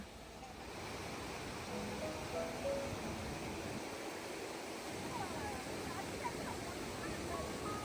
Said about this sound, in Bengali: ঝর্ণা দিয়ে অনবরত জল বয়ে চলছে